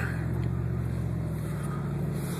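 A deep, steady pickup truck engine rumble drones close by, low and loud, with a loud, throaty exhaust, no voices.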